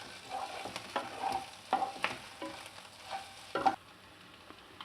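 Boiled, peeled eggs turned with fried onions in a pan for an egg pulusu, irregular spoon clacks and scrapes against the pan over a light sizzle, close and without talk.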